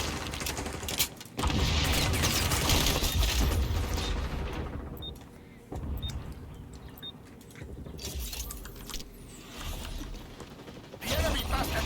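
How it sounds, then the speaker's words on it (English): Weapon magazine being swapped during a reload in the video game XDefiant, a series of clicks, ratcheting and metallic rattles with a few bright pings, close and moderately loud, with no talk over it. "Changing mags. Reloading."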